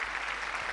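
Audience applause welcoming actor-director Ramesh Kanna onto the stage at a Tamil tribute event, a steady wash of clapping that fills the short moment evenly without pause.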